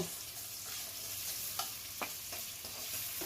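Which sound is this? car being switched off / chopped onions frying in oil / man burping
chopped onions frying in oil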